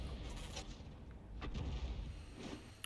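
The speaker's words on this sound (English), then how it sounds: "Well, there was an explosion" An artillery round from an SU-8 self-propelled gun explodes in a tank video game, heard as faint, muffled low booms and rumbling thuds spread across a few seconds with no talk.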